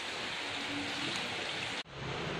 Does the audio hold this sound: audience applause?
no